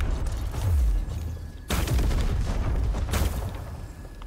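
Explosives hidden in a wall blow up in the video game Asterigos: Curse of the Stars, two heavy, booming blasts a second and a half apart, each trailing off into a low rumbling decay.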